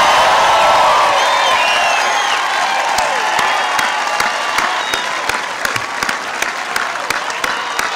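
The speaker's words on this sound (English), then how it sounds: "I just want everybody to give a big round of applause to former Congressman Lane Evans" A large crowd applauds and cheers at a Barack and Michelle Obama campaign rally in Davenport honoring former Congressman Lane Evans, a dense, sustained roar of clapping with sharp individual claps standing out, steady throughout.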